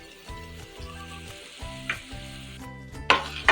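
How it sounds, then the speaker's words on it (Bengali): Cauliflower and potato pieces fry in hot oil with turmeric and salt, a close, steady sizzle with rhythmic bursts as the pan is stirred and the spoon clatters against it. "এটাকে একটু মিডিয়াম ফ্লেমে ভাজা হতে দেব"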